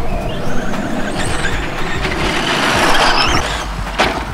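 Kyosho Ultima SCR two-wheel-drive RC short course truck running a Leopard Hobby 1/10 scale brushless motor combo, whining loudly with rising high-pitched squeals as it accelerates, continuous and close over the full stretch with no talk.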